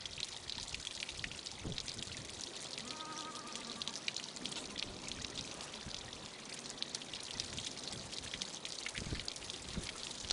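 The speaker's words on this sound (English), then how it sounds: "there is a small waterfall" A small waterfall on a rocky slope where rockhopper penguins climb, giving a steady, faint rushing pour with splashing and trickling water, even and unbroken throughout with no voices.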